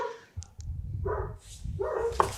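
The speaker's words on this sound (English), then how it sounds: "We got dogs going nuts." Several dogs bark and yip excitedly in bursts at moderate distance, with a few sharp high yelps among the barks and no talk over them.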